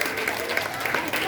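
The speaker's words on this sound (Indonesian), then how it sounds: "Tepuk tangan dulu untuk kawan kita ini." Brief scattered clapping for a pupil at a school Maulid Nabi celebration, soft and short, mixed with voices in the room.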